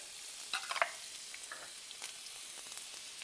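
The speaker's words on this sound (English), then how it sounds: "Let the mustard seeds crack" Mustard seeds and chopped ginger sizzle in a hot pan, with a steady frying hiss and a brief cluster of sharp crackles and pops near the start before settling into an even sizzle.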